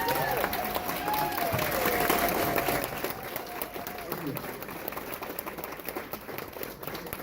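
An audience at a live talk applauds to welcome speaker Mike DiMuccio, with steady dense clapping that is loudest at first and then slowly thins, plus a few cheers from the crowd.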